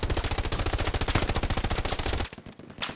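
Rapid automatic gunfire from a video game, a dense steady burst of loud shots for over two seconds before cutting off to quieter background game sounds.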